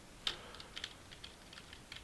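A computer keyboard is typed on while playing a fighting game, a string of faint, irregular key taps with one sharper press near the start, quiet and close.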